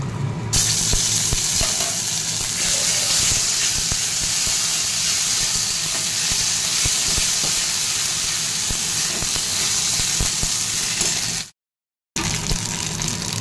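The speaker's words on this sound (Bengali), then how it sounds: "আমি এইভাবেই বিউলির ডালটাকে সাঁতলাই।" Biuli (urad) dal sizzling in hot oil with ginger paste, a steady, loud frying hiss that runs without a break and drops out briefly near the end, with no talking.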